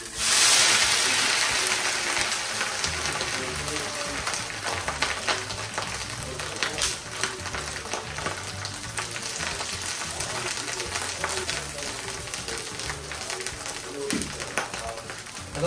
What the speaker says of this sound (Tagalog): So the next na gagawin natin is sasangag naman natin yung ating tinapa flakes.